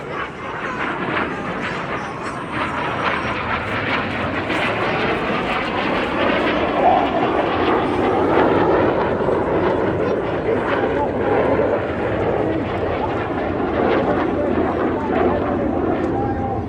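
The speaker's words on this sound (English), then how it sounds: "Each aircraft will perform a barrel, past the middle, wingtip to wingtip, 30 metres, only 100 feet." Red Arrows jets roar through a low-level air display over the seafront at a regatta, a loud sustained engine rush swelling and fading as aircraft pass, with crowd and commentary voices underneath.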